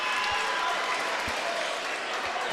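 Crowd at a high school boys basketball game reacting after a successful free throw, a continuous roar of cheering and applause filling the gym with occasional thuds underneath.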